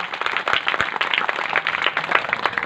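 Applause from a kirtan audience in Navnath Nagar, Chhatrapati Sambhajinagar: dense, steady hand clapping from a crowd, sustained and fairly loud throughout with no talk over it.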